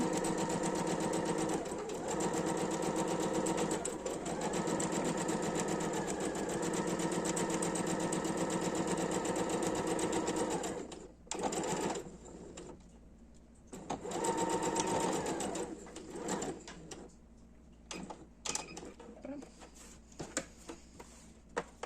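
A sewing machine stitches a small fabric pouch in a fast, continuous buzzing run of about ten seconds, then stops and restarts in shorter bursts with quiet pauses between; no talking.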